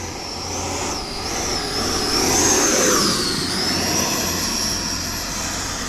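An E-flite Viper 90mm RC jet plane flies by on thrust, its electric ducted fan giving a steady, loud high-pitched whine that swells and bends in pitch as it passes, over a continuous rushing roar.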